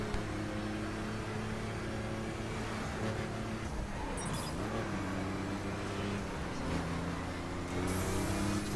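A Hummer H1 Alpha in The Crew racing game gives a steady, droning engine hum while driving, with the pitch dipping and rising through a corner and no voices over it.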